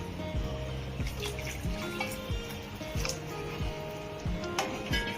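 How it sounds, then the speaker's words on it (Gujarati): Water trickles into a cooking pot in a quiet kitchen, a soft continuous flow with faint rhythmic scraping and clinks running beneath it. "થોડું પાણી નાખવું જ પડશે એટલે હું નાખી દઉં છું"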